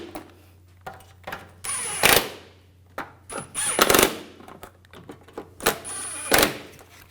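Power tool tightening transmission pan nuts onto studs on a 2007-2013 BMW X5, heard as three short loud bursts with clanks and metallic handling between them at close range.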